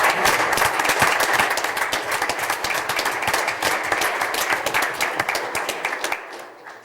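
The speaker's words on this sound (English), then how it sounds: "let's give a big round of applause for these guys" A hearty round of applause for the graduates at a Springfield Township trustees meeting, many hands clapping loudly and continuously for several seconds before fading out.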